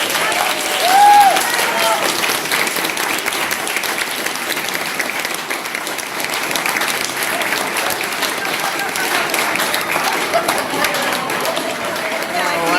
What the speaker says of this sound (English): Can we give them a really big round of applause?